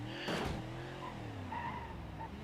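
Tyre squeal from wheelspin in the driving game BeamNG.drive, a continuous screeching skid over a steady engine drone, loud and close, rising briefly near the start and persisting throughout without talk.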